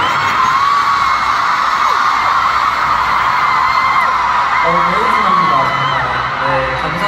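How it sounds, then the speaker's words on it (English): A concert crowd at a K-pop show screams and whoops loudly and continuously, a dense roar of high voices with some yells rising above it. "I couldn't hear myself because of all the screams."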